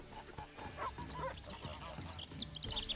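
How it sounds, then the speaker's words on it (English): A goose honks in The Witcher 3: Wild Hunt video game, a few nasal calls set against ambient game sound, rising into a rapid, louder series of honks at the end. "Goose, nice to see you here."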